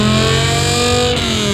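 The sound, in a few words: V10-swapped BMW E46 M3 engine revving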